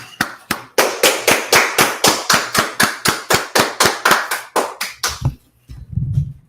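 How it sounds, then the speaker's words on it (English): Loud, rhythmic clapping at a steady fast pace, close by, about twenty claps before it stops and a brief murmur follows. "let's clap it up"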